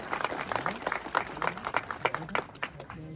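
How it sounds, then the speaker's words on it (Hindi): A crowd at a public address by an MP applauds a woman who has just sung, with dense, uneven clapping close by and some sharper individual claps standing out; a voice murmurs faintly underneath. "जोरदार तालियां हमारी बहन के लिए बजा दीजिए"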